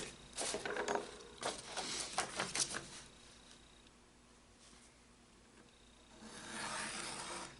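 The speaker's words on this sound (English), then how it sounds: "I'm going to cut out a strip that's about 2 inches wide" Close cutting on a paper folio: a run of crisp snips and scraping strokes as a strip about two inches wide is cut away. After that comes a quiet pause, then a soft rustle of paper. No one speaks.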